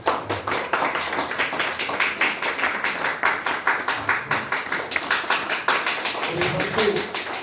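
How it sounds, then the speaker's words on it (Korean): A church congregation claps in welcome for a newly arrived young minister during a Sunday service, steady rhythmic clapping from many hands filling the room, with a voice speaking over it. "박수로 환영하겠습니다."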